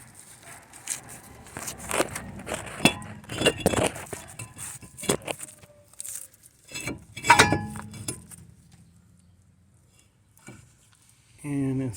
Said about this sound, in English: I'm gonna put the rotor on.